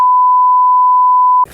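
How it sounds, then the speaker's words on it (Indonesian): A steady censor beep tone holds a single pitch, loud and continuous for about a second and a half before cutting off into faint room noise. "Itu Bip, itu pasti."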